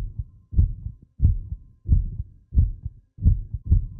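Heavy thumping heartbeat in The Backrooms video game, a slow steady lub-dub pulse repeating about every 0.7 seconds, loud and close with nothing else over it.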